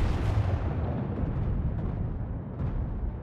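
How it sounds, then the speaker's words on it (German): Battleship guns fire in the World of Warships video game aboard the Kawachi, a heavy booming blast that rolls on as a dense, loud rumble for several seconds, with a second swell near the end and no speech. "Und unsere Geschütze sind bereit. Und wir schießen hier hin."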